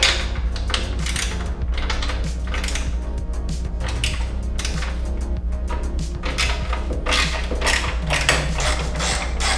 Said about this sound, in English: So to remove your nice little ugly lights back here, we're going to use a 13mm socket.